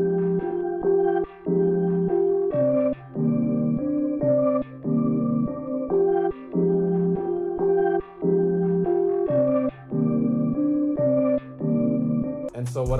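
An Omnisphere Firefly Pulse synth pad plays a repeating pattern in FL Studio, sustained chords in short rhythmic phrases separated by brief gaps, loud and clean with no talking.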